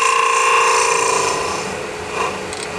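A hand-held cutting tool scrapes steadily across spinning cocobolo wood on a lathe, giving a close, continuous hissing rasp with a faint tonal whine that eases off slightly toward the end.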